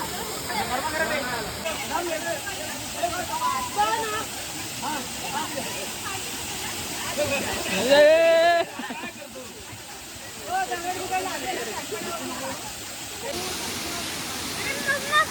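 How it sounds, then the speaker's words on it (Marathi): Steady rushing of a waterfall fills the scene, a constant broadband roar with people talking over it throughout. "इकडे खालती आपला धबधबा हा बघा"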